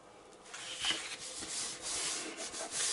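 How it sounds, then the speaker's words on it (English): Paper pieces for a handmade journal being burnished together, a steady close scraping rub with short pressing strokes, alone without talk. "You need to burnish them really good"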